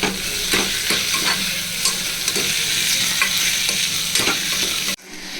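Two medium onions and two medium tomatoes fry in a pan for mutton head curry, a loud, steady sizzle with stirring scrapes throughout that stops abruptly near the end.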